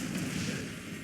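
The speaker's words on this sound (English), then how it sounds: "Athena cannons bombarding the remnants of the original base of the Mindogas" Athena cannons bombard a base in a strategy video game, a brief dense thudding rumble of artillery impacts, steady and moderately loud for about a second.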